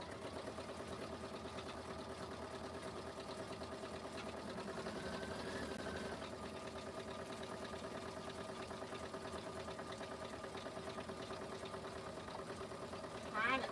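A sewing machine runs a bean stitch while quilting, a steady fast mechanical whir and chatter that continues for over ten seconds at low level indoors.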